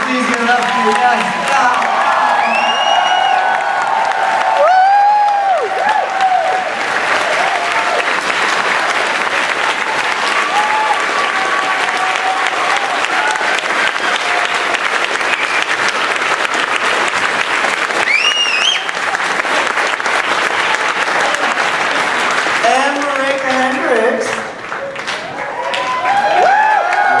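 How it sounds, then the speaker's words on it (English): Convention audience in a hall bursts into sustained, loud applause with cheers and whoops throughout, a dense crowd roar with voices shouting over the clapping that barely eases near the end. "One more round of applause, please give it up for you guys."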